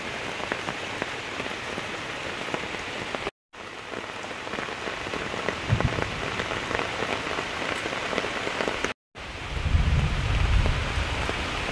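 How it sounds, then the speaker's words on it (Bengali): Heavy monsoon rain pours down steadily on a rural Bengal morning, a dense, loud hiss of drops striking surfaces, broken only by two brief cuts and a low rumble near the end. "মুষলধারে বৃষ্টি এলো, এক পশলা হয়ে গেছে সকাল থেকে, আবার এই যে এলো"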